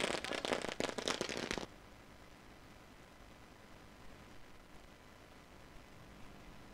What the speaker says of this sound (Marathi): फटाक्यांची आतषबाजी सध्याच्या घडीला आपल्याला पाहायला मिळते